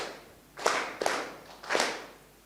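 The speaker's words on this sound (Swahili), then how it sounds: "Jipigeni makofi." Graduates of a sports psychology course clapping for themselves, three short bursts of applause rising and fading about half a second apart, moderately close in a quiet room.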